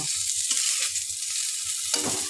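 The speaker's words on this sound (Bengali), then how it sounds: "নিয়ে এবার গাজরটা ভেজে নেব" Carrots frying in oil in a home kitchen pan, a loud continuous sizzle with soft rhythmic stirring scrapes underneath and a sharper burst of crackle near the end.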